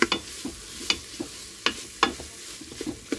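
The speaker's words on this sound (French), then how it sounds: "Et on mélange, et on mélange." A spoon stirring a one-pot potato curry with tomato concentrate in a pan, irregular scraping clinks over a faint sizzle, close and moderately loud, with no talking.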